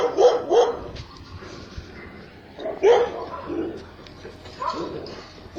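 Dogs bark in several short bursts behind a fence line, heard from across the road while someone walks past, fairly close and loud, with quieter gaps between the outbursts.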